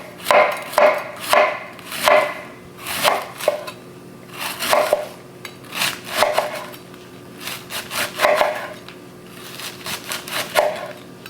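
A knife slices through cabbage on a cutting board in a steady series of crisp, close cuts, each stroke a short crunchy burst with brief pauses between.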